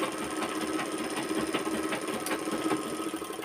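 A lock sewing machine, an overlocker repaired after skipping stitches, runs close and loud as it stitches fabric, a dense mechanical whir with a quick rhythmic knock from the needle and no talking.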